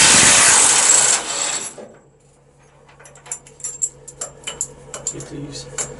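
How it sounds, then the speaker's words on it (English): Power tool whirring and rattling as bolts come out of a 1996 Peterbilt truck cab: a loud, dense burst up close for the first two seconds, then a run of short metallic clicks and clanks. "Let me get these other ones out and I'll show you how the cab flips over."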